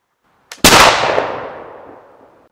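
A single shot from a Miroku reproduction Charleville 1766 flintlock musket: a faint pan flash, then a loud, close blast that rings away into a long fading tail.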